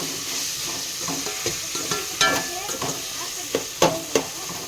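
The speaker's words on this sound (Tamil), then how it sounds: "அடுத்து வந்து தக்காளி சேர்த்துக்கலாம்" Tomatoes frying with onion, ginger and garlic in a pan make a soft sizzle, broken by several sharp clinks and scrapes of stirring.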